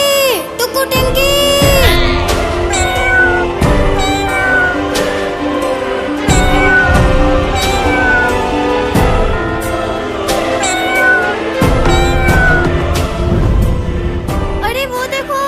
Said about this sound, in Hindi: सामने से बिल्ली और बिल्ली के बच्चे आ रहे हैं,